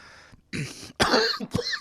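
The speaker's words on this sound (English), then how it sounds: "That was a cough." A few harsh, close coughs in quick succession, loud and abrupt, with a throat-clearing quality and no talking.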